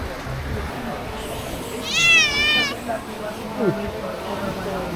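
A single drawn-out cat meow rises and falls clearly over background chatter and room noise in a resto bar in Moalboal, Cebu, with a fainter second mew shortly after.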